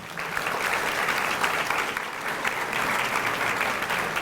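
Audience at a school district back-to-school kickoff gives a sustained round of applause, an even, dense patter of many hands clapping for about four seconds.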